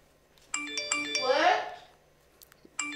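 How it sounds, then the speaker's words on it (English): A phone ringtone plays a repeating chiming melody, fairly close and clear, with a pause before it starts again and a voice speaking briefly in between. "your phone's still going off"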